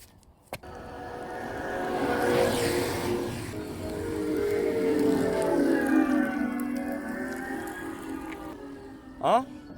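A strange, spacey electronic hum with rising and falling tonal bands, the low-speed pedestrian warning sound of an electric Mini, steady for several seconds with a brief squeak near the end.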